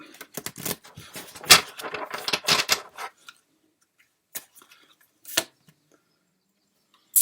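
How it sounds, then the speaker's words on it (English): A deck of tarot cards is shuffled by hand: a quick burst of riffling, flicking card noise for about three seconds, then a few isolated soft taps as the cards settle, quiet and close with no talk. "So I'll give it one more shuffle."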